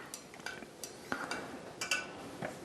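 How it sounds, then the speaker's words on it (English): A spoon or stirrer clinks and taps against a small glass or plastic sample vessel while mixing a water test sample, producing irregular light clinks close by with no talk. "we're going to give this thing a nice little stir here"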